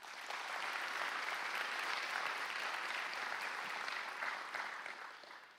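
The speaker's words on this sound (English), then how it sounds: "So please give them a round of applause." An audience applauds at a Chula Vista Fire Department academy graduation held in a church, steady clapping that fills the room for several seconds and then tapers off.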